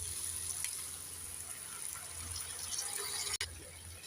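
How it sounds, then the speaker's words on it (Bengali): Water poured into a pan of fried winter vegetables with ground spices, a steady close gushing pour over a low hum, ending with a brief clunk. "এবার আমি দিয়ে দেব জল"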